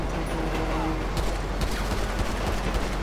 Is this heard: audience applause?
no